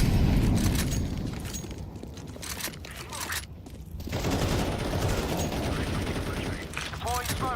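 Sustained automatic gunfire from Counter-Strike, dense bursts of rapid shots filling the whole stretch with a brief lull midway, with a voice talking over it.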